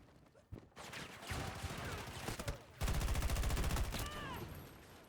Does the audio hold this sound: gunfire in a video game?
yes